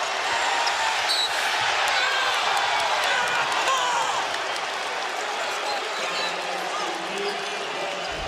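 A college basketball arena crowd roars through a Duke versus Georgetown game as Duke closes a 13-2 run to tie the score, sustained loud cheering with a commentator talking over it.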